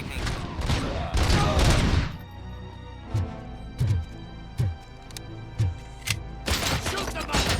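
Gunfire in RoboCop Rogue City: a loud burst of rapid shots opens, then single heavy shots land at roughly even intervals, and a dense volley closes it out.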